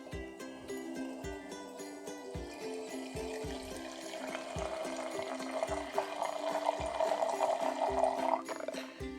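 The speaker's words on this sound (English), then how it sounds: "I'm going to put the water in very slowly." Water is poured very slowly into a beaker for a school chromatography ink experiment, a faint thin trickle that rises in pitch as the glass fills, heard alone over a quiet room with periodic background ticks.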